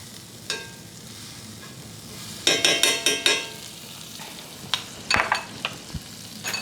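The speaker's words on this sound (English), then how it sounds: "We're going to coat our pan real good with that garlic and thyme butter." Garlic and thyme butter sizzling in a pan as it is spread around, a soft continuous crackle broken by bursts of sharper spitting pops and utensil scrapes, close and fairly quiet.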